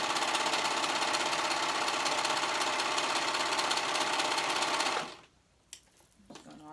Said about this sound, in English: we're serging we're serging them together, right sides together